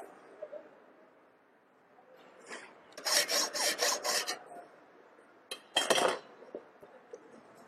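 Metal slug material on a clamped workpiece being cut, short rasping strokes in a quick run of about six, then a pause and another brief burst, moderately loud and close.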